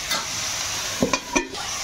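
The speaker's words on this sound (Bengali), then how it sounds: "নেড়ে দিচ্ছি।" Rohu fish and bottle gourd fry in a spiced pan while being stirred, a continuous sizzle broken by a few short scraping clatters of the spoon, close and without speech.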